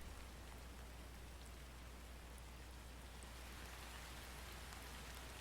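Steady rain weather effect from the survival game ARK, a soft, even hiss of drops falling on surfaces that holds constant and fairly faint throughout with no talking.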